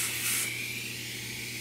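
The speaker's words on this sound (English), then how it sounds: "this paint that I'm spraying on" A steady hiss of craft spray paint from a can, loud and close, holding one even stream for the whole moment with no talking.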